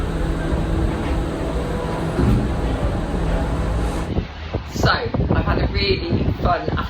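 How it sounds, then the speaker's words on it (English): Strong wind buffets the microphone aboard a Disney Skyliner gondola with a low, continuous roar, giving way to gustier, uneven rumbling in the last few seconds. "as you can tell by my hair, it's a bit windy up here"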